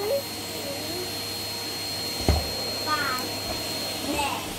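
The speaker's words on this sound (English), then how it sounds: "While Daddy's still doing the Hoover." A Henry Hoover vacuum cleaner drones steadily in the background while a voice chatters briefly over it, with a thump partway through.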